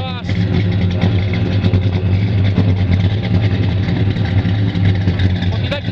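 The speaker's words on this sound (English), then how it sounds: "Listen to that exhaust." A 1961 Chevrolet Bel Air with a 409 engine idles loudly and steadily, its exhaust a deep, continuous rumble with slight lumpy pulsing throughout.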